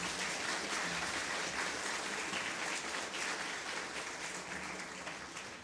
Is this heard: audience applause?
yes